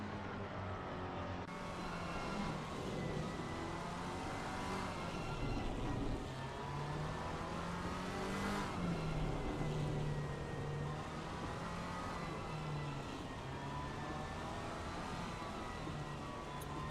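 Simulated racing cars at full tilt on the Paul Ricard circuit, a continuous engine whine rising and falling with gear changes and braking, loud and unbroken with no talk.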